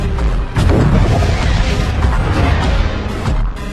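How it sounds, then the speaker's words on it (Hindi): Laser ion cannons blasting an alien spaceship in the film Independence Day: Resurgence: heavy, rumbling booms and crashing explosions pile up in quick succession, loud and continuous with several sharper hits. "हमारी लेजर आयन तोपों ने उस अंतरिक्ष यान पर हमला किया"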